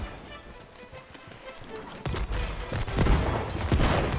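Bursts of video game gunfire that start sparse and grow into a dense, loud volley in the second half, clattering over a busy game soundscape.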